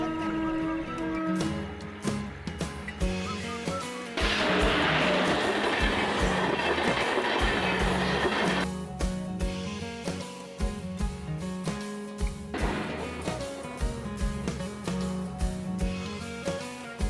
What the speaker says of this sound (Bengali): হ্যাঁ ট্রেনই আসছে তো।